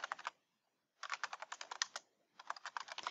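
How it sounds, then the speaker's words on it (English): Quick clattering keystrokes on a computer keyboard in three bursts separated by brief silences, close and clear with nothing else audible. "Who is typing something?"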